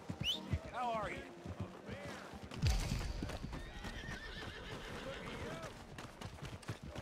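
A horse in the Red Dead Redemption 2 video game whinnies loudly, with clip-clopping hooves and other game sounds around it, while people talk throughout.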